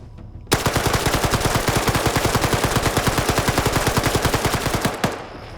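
Rapid automatic gunfire in a multiplayer shooter game, one long sustained burst of evenly spaced loud shots lasting about four and a half seconds, close and dominant, then cutting off sharply.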